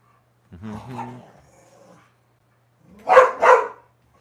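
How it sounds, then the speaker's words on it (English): Dogs in a home bark in a pair of sharp, close barks near the end, after a stretch of whimpering, yippy vocal sounds. "The dogs are at it again."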